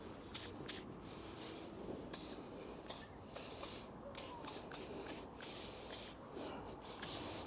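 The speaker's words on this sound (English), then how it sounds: "Spray some of the Sonax tar remover." Sonax tar remover sprayed from an aerosol can in short hissing bursts, a dozen or so quick misting puffs in an uneven rhythm, close but soft.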